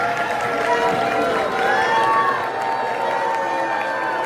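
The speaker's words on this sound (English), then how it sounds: "Representative Mike Lawler takes the stage at his town hall in Rockland County to a mix of cheers and boos" A large town hall crowd of about 1,200 in Rockland County gives a mix of cheers and boos, a steady dense roar of many voices with rising whistles and shouts, sustained and loud throughout.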